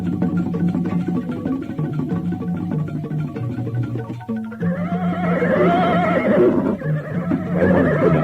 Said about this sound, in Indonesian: Hamba mendengar derap orang-orang berkuda.